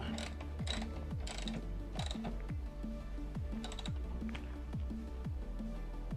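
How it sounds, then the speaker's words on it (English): A ratchet wrench tightening a motorcycle rear axle nut clicks in steady repeated bursts of sharp metallic pawl ticks, close and clear with no talking. "just need to go back over here, tighten up your axle."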